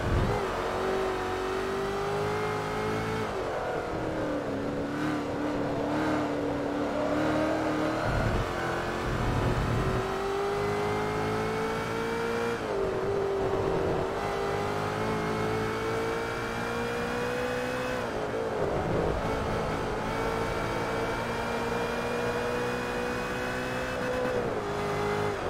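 Ford GT supercar lapping the Nordschleife in Forza Motorsport 3, its engine droning steadily and rising in pitch through the gears, with brief dips at each shift across a continuous loud run.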